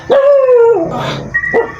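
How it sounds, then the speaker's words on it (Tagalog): A dog lets out a few sharp, loud barks close by, with short pauses between them. "Ay, aso. Aso ba?"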